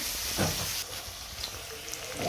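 Green peas fry in a pan that is partly covered, giving a continuous hiss with a few soft pops and crackles, near and moderately loud, with no talking.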